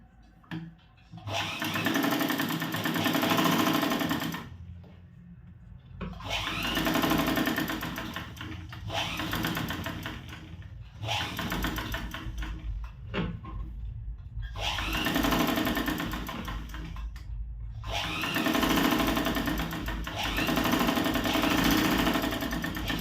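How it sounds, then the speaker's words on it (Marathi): A sewing machine double-stitches a tucked blouse in four bursts of fast, close mechanical whirring, each a few seconds long, separated by short quiet gaps. "आता डबल टिप मारून घेणार आहे"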